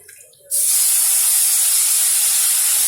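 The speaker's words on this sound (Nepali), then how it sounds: "सिस्नो अघि पकाएको कुकरमा पकाएको सिस्नोलाई हामी अब यसमा राख्दैछौँ।" Cooked stinging nettle dropped into a hot gravy pan, a sudden loud sizzle that bursts in after a quiet half second and holds as a steady, close hiss to the end.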